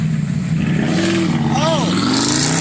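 An engine revs in a rising and falling pull during a rev-off among friends, heard close under loud talking and a steady idle drone.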